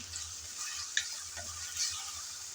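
Ginger-garlic paste frying with onions in a pan for Bengali ghugni, stirred with a utensil: a faint, steady sizzle with one sharp clink of the spoon against the pan, and no talking.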